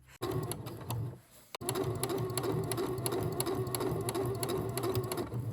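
A sewing machine fitted with a knit-fabric presser foot stitches a seam, closing it with binding tape, in a loud, steady mechanical run with rapid rhythmic needle ticking after a brief stop and restart near the start.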